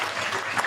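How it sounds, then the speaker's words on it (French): An audience claps loudly and densely after a show, a brief burst of sustained applause filling the hall. "j'aimerais qu'on applaudisse encore plus fort toutes les personnes qui ont participé à ce spectacle"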